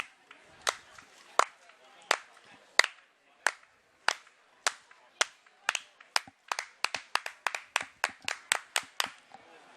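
A stadium crowd at a junior athletics championship at Sydney Olympic Park claps in a steady rhythm for a discus thrower. The claps are sharp and distinct, slow at first and then quickening into a faster beat.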